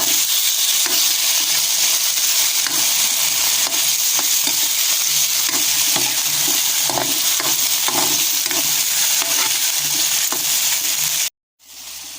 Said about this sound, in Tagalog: gisa ako ng kamatis, bawang at saka tuyo